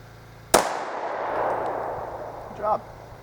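A single handgun shot fired at a target on a range cracks out sharply and loudly, leaving a long fading echo. A brief voice follows near the end.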